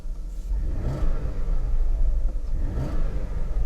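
A Jaguar S-Type engine idles in neutral with a deep rumble, then revs up twice in quick surges before settling back, close and loud with no talking.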